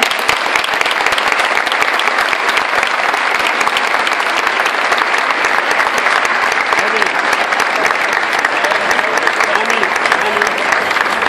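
Theater audience applause at the end of a play in Gáldar, a dense, steady ovation of many clapping hands that fills the hall and keeps going without pause throughout.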